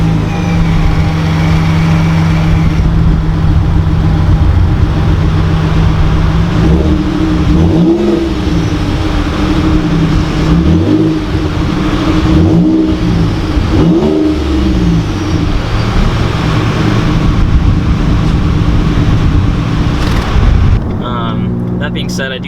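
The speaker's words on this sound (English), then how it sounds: "As far as the engine note, I like it." A 2017 Ford Raptor pickup with true dual exhaust revs its engine, a loud, close, deep exhaust note rising and falling through several throttle blips over a steady idle rumble.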